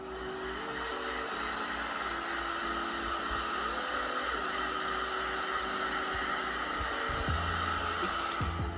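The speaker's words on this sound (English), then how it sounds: "the first thing I'm gonna do is heat gun" A heat gun melts candle wax in a tin for a DIY fall candle, giving a steady, loud blowing roar with a constant hum that runs without a break through the whole stretch, and no voices are heard over it.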